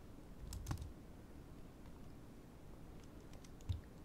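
A handful of computer keyboard keystrokes, quiet and close, with a short burst of clicks near the start, a lone key tap later, and hushed gaps between them while commands are entered for DNA design software.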